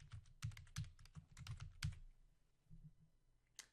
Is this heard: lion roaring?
no